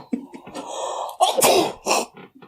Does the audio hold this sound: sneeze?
yes